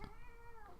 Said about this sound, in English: And my cat does too, if you can hear her meowing.